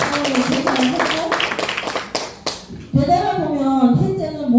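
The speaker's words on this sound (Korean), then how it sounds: "박수해주셔야죠" An audience claps at a business talk, giving a short burst of brisk applause that fades after a couple of seconds before a voice resumes speaking.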